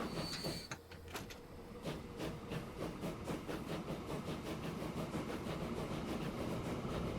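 A steam train in the video game Transport Fever 2 rumbles steadily as it arrives, with rhythmic clacking of wheels over rail joints and a brief high squeal near the start, loud and continuous throughout.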